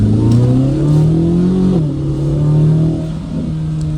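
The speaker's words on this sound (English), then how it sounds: "Yeah, that's touring mode exhaust." A 2026 Corvette Z06 3LZ accelerates with its exhaust in touring mode, a loud, close, droning engine tone that climbs, dips with a shift, then settles into a steady pull.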